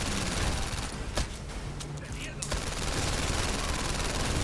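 Gunfire shootout in a PlayStation VR game, rapid automatic shots crackling densely and loudly over dense background noise, with a brief lull in the middle before the firing resumes.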